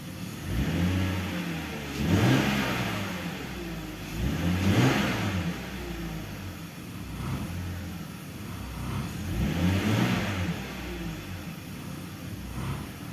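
A BMW E46 325i engine revs repeatedly from idle, rising and falling in slow swells as the RPM dips just past idle, heard up close with no talk.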